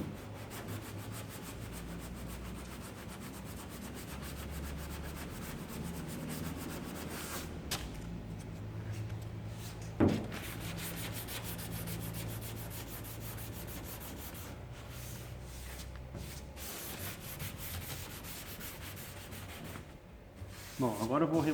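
Hand sanding of PU automotive primer on a car body panel, a steady continuous abrasive rubbing that runs throughout at an even, moderate level, with a brief sharper scrape partway through.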